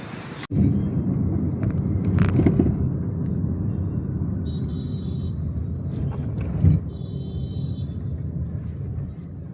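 Cars passing slowly along a road, a low steady engine rumble that swells and fades close by, with a brief knock near the start and faint higher whines in the background.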